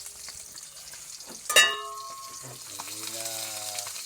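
Milkfish sizzles faintly in a pan at home, a soft steady crackle that flares briefly, with a voice and a few clinking sounds nearby.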